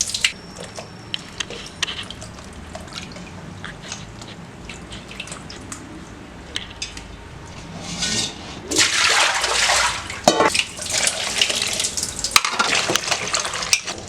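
Mutton lungs are squeezed and washed by hand in water, giving soft squelching and sloshing that grows into louder, wetter splashing and dripping bursts toward the end.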